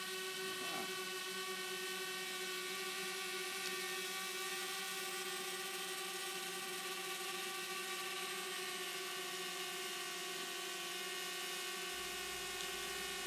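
A survey drone hovers over forest roads and trails, its rotors giving a steady high whine with stacked tonal layers that holds unbroken and fairly faint throughout.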